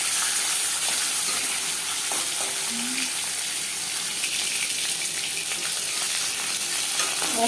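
Marinated bhetki fish dropped into hot mustard oil sizzles loudly and continuously, a dense close-up frying hiss that fills the whole stretch without pause or voices.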